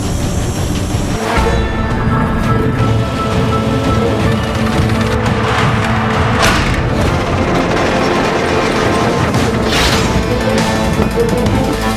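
The turret projectile hoist on the battleship USS New Jersey is driven by a hand lever, a loud, steady mechanical rumble and grinding with heavy clanks that surge a few times, close and filling the space.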